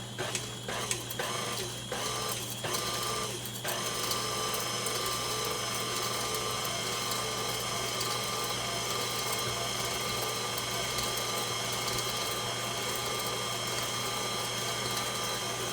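A food processor whizzes sweetened coconut for a sawdust pie, a steady loud mechanical whirr that runs without a break after a few brief uneven bursts at the start.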